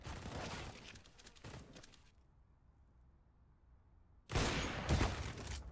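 Bursts of gunfire in CS:GO on the Overpass map: a cluster of sharp shots, a quiet pause, then another loud burst of shots close by.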